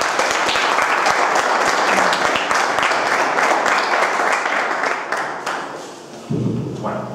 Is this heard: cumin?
no